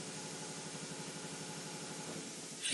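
A car engine runs steadily at idle during a crank sensor test, a continuous even rumble with a faint rhythmic pulse, fairly close and alone, rising slightly at the very end.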